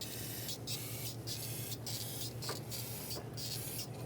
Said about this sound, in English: give it a tiny little spray on each injector O-ring